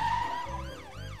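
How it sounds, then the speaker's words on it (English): Cartoon police car siren sweeping up and down in wailing cycles over a sustained musical tone, close and fairly loud, with no talk. "It's Police Officer Panda in his police car coming to see if everyone's okay"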